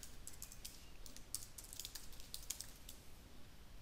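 Computer keyboard typing during C# coding, a quiet, close run of light, irregular key clicks, some a little sharper than others, with no talk.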